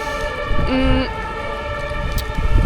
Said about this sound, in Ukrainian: Чуєте? Це знову пожежна машина поїхала.